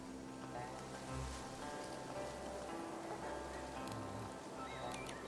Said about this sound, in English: And that evening, it rained.